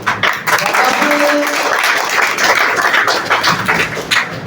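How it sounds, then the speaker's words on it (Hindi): Audience clapping at an Independence Day school program, a dense, loud round of applause with some tapping and thumps throughout, brief voices mixed in under it. "आपकी भरपूर तालियों में"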